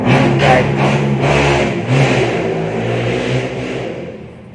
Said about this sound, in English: such a loud motorcycle